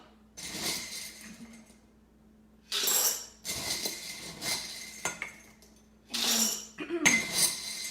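Dry gluten-free rice macaroni pours into a glass jar in three bursts of bright, rattling clatter, each a dense cascade of small hard pieces striking glass, with quiet pauses between; a faint voice murmurs briefly near the start.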